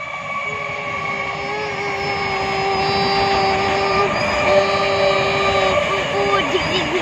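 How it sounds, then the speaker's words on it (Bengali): A train passes a level crossing, its steady rolling rumble and sustained horn-like tones filling the scene, growing louder toward the middle and continuing throughout, with people talking nearby over it. "ওই দেখো ট্রেন আসছে"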